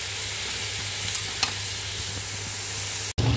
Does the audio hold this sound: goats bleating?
no